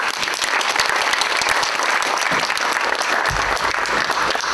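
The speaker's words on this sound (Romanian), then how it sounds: "Să aplaudăm!" An audience claps steadily, a dense patter of applause that holds at an even level throughout.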